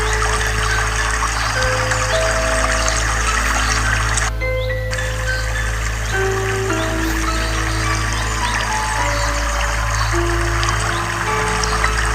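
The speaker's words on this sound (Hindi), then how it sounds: "और ये देखें कितना बह रहा है पानी यहाँ पर" Cold, clear water rushing down a stream below a Peak District waterfall, a loud, steady wash of splashing and gurgling close by that carries on without pause, with no voices.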